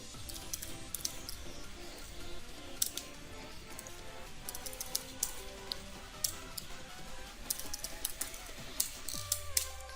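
Quick, light keystrokes tap on a computer keyboard while data is entered into an Excel spreadsheet, a steady close clatter with a faint background hum.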